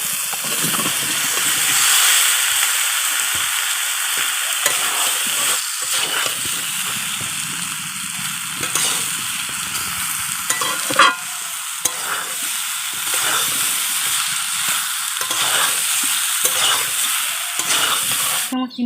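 Fried jackfruit and potato pieces are stirred into oily masala for a prawn and jackfruit curry, giving a steady close sizzle with repeated scraping and clinking spoon strokes throughout, and no talk.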